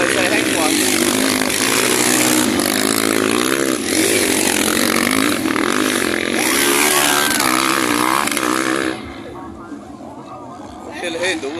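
Motocross motorcycle engines racing on a dirt track, loud revving and shifting engine whine near the microphone with people talking over it, then the engine noise drops away toward the end.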